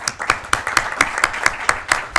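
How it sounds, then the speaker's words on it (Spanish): Audience applauding to welcome a speaker at a talk, heard as a short run of distinct, evenly spaced claps that sound fairly close and loud, with a faint murmur of voices underneath. "un aplauso para ella"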